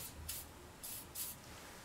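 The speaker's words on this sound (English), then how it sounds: "I'm just gonna get some silicone spray again, just to try to help make my life a little easier." Silicone spray from an aerosol can applied to a Homelite Trim N' Edge string trimmer in three short, close hissing bursts.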